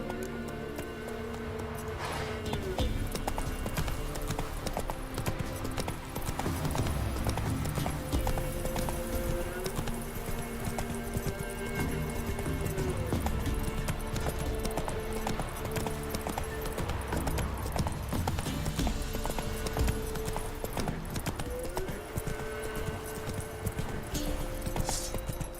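Horse hooves clip-clop steadily under game music in The Witcher 3, a continuous rhythmic gallop with no speech over it.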